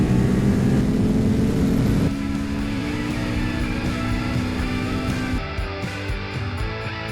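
A motorcycle accelerates hard at full throttle in fourth gear, its engine a loud, sustained droning roar that climbs steadily in pitch, eases briefly at a shift, then pulls on before fading slightly.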